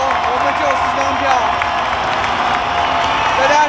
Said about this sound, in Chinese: 大家听到掌声了吗？